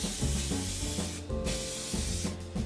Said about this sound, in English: I'm going to spray paint these ones black because I want a Homecoming style black web shooter